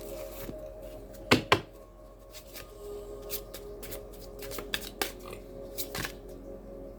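Tarot cards being shuffled and pulled from the deck, soft riffling and sliding with a couple of sharper slaps and taps, close and quiet with no talk.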